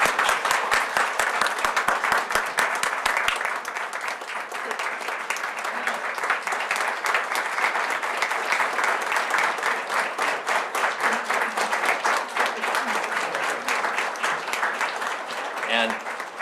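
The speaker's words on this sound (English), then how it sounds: "Let's give Shirley a round of applause" A board meeting audience gives Shirley a sustained round of applause, a thick, steady roar of many hands clapping for over fifteen seconds, with a few voices audible near the end.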